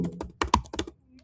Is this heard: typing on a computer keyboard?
yes